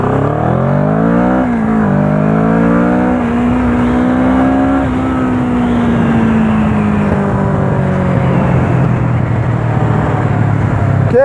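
A motorcycle engine, already warm, revs and accelerates hard through the gears, pitch climbing and resetting with each shift, loud and close with no talk over it.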